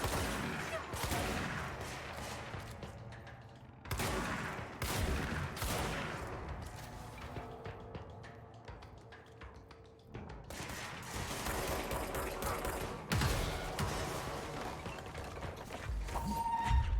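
Repeated heavy shotgun blasts in the video game Control, loud bursts with echoing tails spaced every few seconds over a dense game soundtrack.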